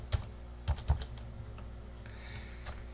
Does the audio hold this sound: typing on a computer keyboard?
yes